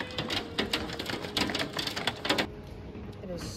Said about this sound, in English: Look at this hail.